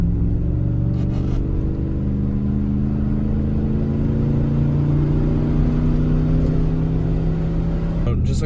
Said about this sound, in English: I'm gonna go do a wide open pull right here on the street